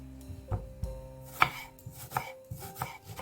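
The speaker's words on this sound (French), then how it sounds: "Émincez finement l'oignon" An onion is finely chopped with a knife on a board, a quiet, close series of irregular chops and taps spaced over a few seconds.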